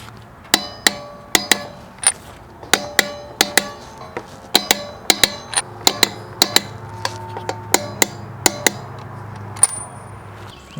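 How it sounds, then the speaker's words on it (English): A torque wrench tightens the lug nuts on a 2017 Toyota Prius with about two dozen sharp metallic clicks in quick uneven clusters over a faint background hum. "Okay, we're going to torque these down to 77 foot-pounds. We're going to go in a crisscross pattern."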